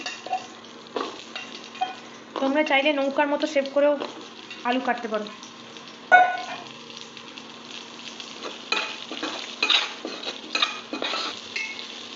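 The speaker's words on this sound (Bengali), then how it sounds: "এমন ডুমডুম করে কাটা আলুগুলো ভেজে নিচ্ছি।" Diced potato pieces fry in oil in a pan with a soft, steady sizzle, punctuated by clinks of a spatula against the pan, while someone talks over the cooking.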